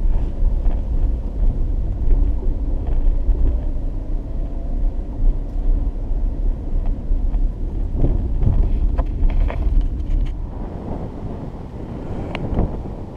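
Strong wind buffets the microphone in a steady low roar with gusty swells, alongside a rumbling vehicle-like drone and no talking, at a covered bridge in New Brunswick.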